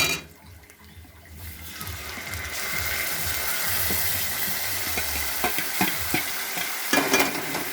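Grated tomato hitting hot oil with reddened fried onions, a loud steady sizzle that swells after the first second, with scraping stirring clicks through the second half.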